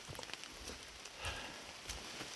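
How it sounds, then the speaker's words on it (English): Steady, light rain patters on a wet trail during an Appalachian Trail hike, a soft continuous hiss with faint scattered drops, quiet and alone without voices. "I think it's been raining close to 4 hours now"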